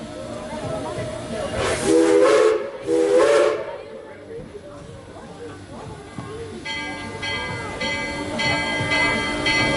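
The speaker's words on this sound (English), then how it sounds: "Two whistle blasts means we're going to move forward" A steam locomotive at a station gives two loud, hissing whistle blasts in quick succession near the start, followed by steam hiss and rumbling, then a further sustained whistle tone later on.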